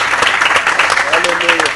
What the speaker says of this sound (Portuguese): Vamos aplaudir ao Senhor, querendo o seu perdão sobre nossas vidas.